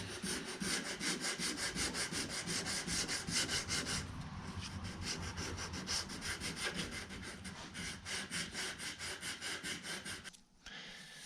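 Block sanding a 1968 Plymouth Barracuda's car body by hand with 80 grit sandpaper: close, steady back-and-forth rasping strokes in an even rhythm, continuous throughout with a brief pause near the end.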